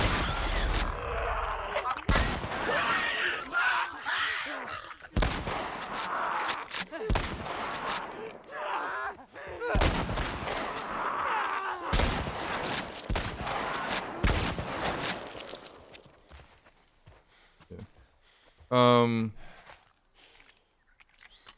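Gunfire from a PC video game at max settings: dense bursts of shots, clustered salvos and brief pauses over about twenty seconds, loud and close, ending with a sharp metallic clank.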